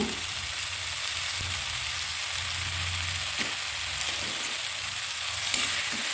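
Chilli powder, garam masala and mutton masala sautéing in a pan for egg kulambu, a steady close sizzle with occasional soft stirring scrapes and no talk.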